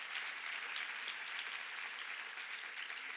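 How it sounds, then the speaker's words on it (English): An audience at a nurturing-themed conference gives a sustained round of applause for the behind-the-scenes admin staff, dense, even clapping filling the room with no talk over it. "let's give them a big round of applause"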